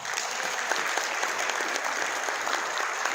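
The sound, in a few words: applause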